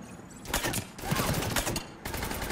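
Rapid gunfire from a weapon in Mass Effect 3 Legendary Edition: dense, crackling bursts of shots that keep up almost without pause, loud and close, with a short dip near the end.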